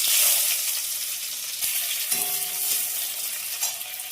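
Sliced onion and crushed garlic fry in hot oil with nigella seeds, a steady close sizzle with bright crackling and a few stirring clinks, no voices present.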